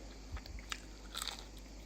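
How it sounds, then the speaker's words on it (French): Close, faint crunches of someone biting and chewing fried breaded chicken, a few crisp bites and crackles over a quiet background. "Trop bon, vous entendez, ça craque et tout."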